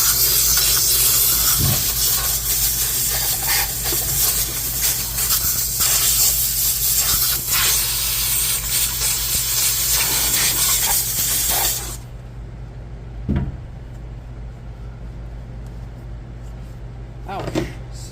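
A steam cleaner blasts a loud, continuous hiss across the grimy engine bay of a Nissan 350Z for about twelve seconds, then cuts off, leaving quiet surroundings with a few brief knocks and clunks.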